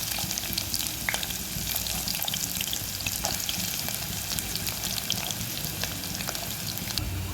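Green chillies frying in hot oil in a pan give off a steady, close sizzle and crackle, soft and even throughout, with faint stirring and no talking.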